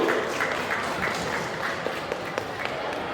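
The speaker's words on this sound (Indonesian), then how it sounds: "Kita kasih aplaus dulu lah buat yang ini." A talk show audience bursts into dense, sustained applause, with many hands clapping at once for over three seconds at an even, loud level.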